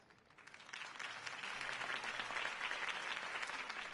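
Crowd applause in a Batman Telltale game scene follows a mayoral campaign speech for Harvey Dent, a dense, steady wash of many hands clapping that swells slightly and holds at moderate loudness, with no voices above it.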